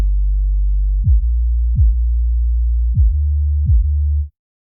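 A deep sustained bass tone with kick and bass sidechain compression pumps under four evenly spaced punchy kick thumps, each briefly ducking the bass before it swells back, loud and alone.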